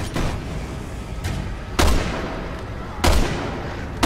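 Gunfire in Resident Evil 6 with Leon, sharp shots cracking at irregular intervals over a dense, rumbling background of game noise.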